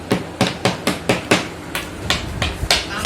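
A child scratches with a screwdriver, making about a dozen sharp, loud rasping strokes at a brisk, steady rhythm close by.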